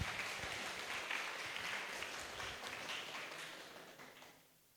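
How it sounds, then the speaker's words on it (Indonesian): Applause at a school webinar event for SMK Negeri 1 Cimahi, a steady broadband clatter of clapping hands, moderately faint and continuous, fading out near the end with no talk over it. "Tepuk tangan untuk kita semua."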